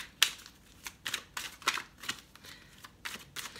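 Oracle cards handled and shuffled close up, a series of crisp irregular riffling bursts and soft slaps spread across a few seconds, with no talking.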